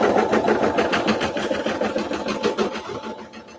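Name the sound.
NQ1700E embroidery machine stitching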